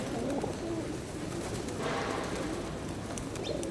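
Pigeons cooing outdoors, soft repeated low coos over a steady background hum, with a brief rush of noise midway and no speech.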